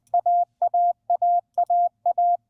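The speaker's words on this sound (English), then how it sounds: "That's the sound of alpha at a full 20 words per minute." A steady electronic tone beeps the Morse letter A at 20 words per minute, a short dit then a longer dah, repeated five times in a quick, even rhythm.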